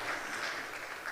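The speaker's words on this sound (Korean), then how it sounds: "이런 때는 박수를 쳐야 돼요." A church congregation claps briefly during a Sunday service, a faint, dense patter of many hands heard from a distance.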